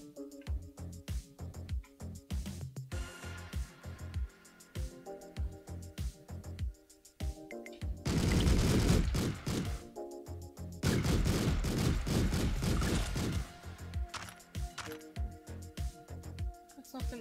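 Submachine gun fire in the video game Streets of Rogue: two dense, sustained bursts of rapid shots ring out over steady, rhythmic game music, each lasting a few seconds.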